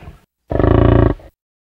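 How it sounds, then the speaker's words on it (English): Buffalo giving a single deep, sustained grunting low, close and loud for under a second, preceded by a brief faint sound and then silence. "Buffalo."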